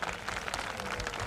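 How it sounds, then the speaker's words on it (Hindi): Brief, steady clapping from an audience at a literature session during a festival event in Jhansi, honoring a poet, a short dense burst heard at moderate level. "एक बार जोरदार तालियां भाई साहब के लिए"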